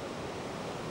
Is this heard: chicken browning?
no